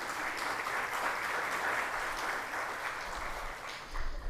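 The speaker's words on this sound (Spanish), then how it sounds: "Fuerte el aplauso para recibirlo." At a panel on digital transformation in Costa Rica, an audience applauds to welcome a panelist, a soft, steady spread of clapping that stays even and rather distant for four seconds before thinning at the end.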